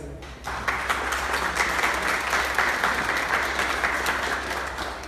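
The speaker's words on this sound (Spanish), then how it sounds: "les pido un fuerte aplauso" Loud, sustained applause from an audience at a press conference for a sound-system DJ event in Hidalgo, swelling quickly after a brief lull and staying dense to the end.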